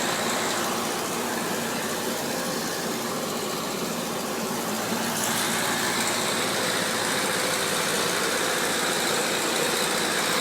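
A Ford tractor engine running on a FEMA-type wood gasifier, its steady close mechanical drone continuing alone for the whole stretch with wind noise outdoors.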